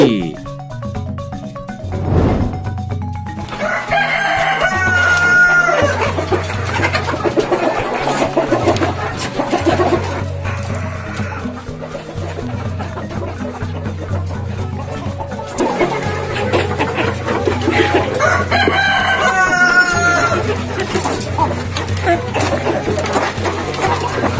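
KUB chickens, an Indonesian native breed, cluck and crow at a poultry farm in Banyuwangi. The calls are scattered through a dense, steady background of farm noise that lasts the whole stretch.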